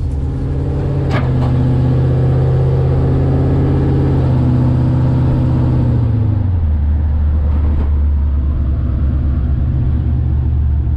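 A rat-rod car built on a 1929 Citroën C4 with a Range Rover 3.5 V8 and automatic gearbox drives along, a loud, deep engine drone that eases from a higher pitch down to a lower rumble, heard from on board.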